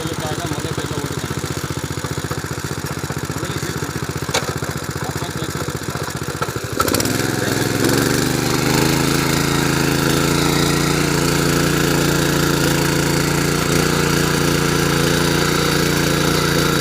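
Power weeder engine starts with a rising mechanical rattle, then catches and settles into a loud, steady, close running drone that continues to the end.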